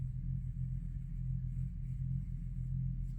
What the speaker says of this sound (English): my son is leaving for work and I can hear his car out there